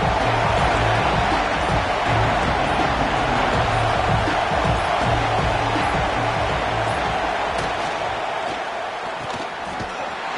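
A loud stadium crowd at an Alabama versus Notre Dame football game roars continuously, a broad dense wall of cheering that eases slightly toward the end, with faint voices inside.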